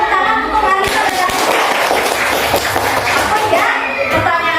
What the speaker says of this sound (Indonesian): Ya, tepuk tangan untuk Alisa